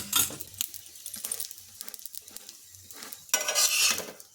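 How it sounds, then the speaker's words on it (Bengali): A methi aloo paratha roasts in a little oil on a pan, heard as soft sizzling broken by short spatula scrapes and pressing bursts, with a louder scrape near the end. "এখন ভালো করে এই পাশে পাশ করে সেঁকে নেব"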